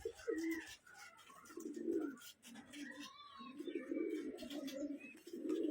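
Domestic pigeons, including tumbler pigeons, coo repeatedly in low, throaty, rolling phrases close by, with faint chirps and rustling around them and no speech.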